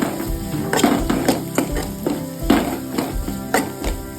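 Crushed ginger and fennel seeds sautéing in a pan while a spoon stirs, sizzling steadily under repeated scraping knocks against the pan, close and clear, no talking.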